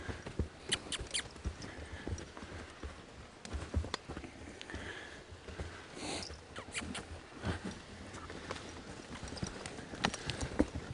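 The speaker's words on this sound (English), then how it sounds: "The other thing is to keep your horses slow." A team of logging horses walks slowly uphill through woodland while hauling timber, their hooves landing in an irregular clip-clop of soft thuds and scuffs close by, with no talk over them.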